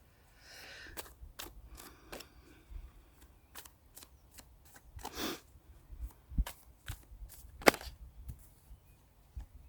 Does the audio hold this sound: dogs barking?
no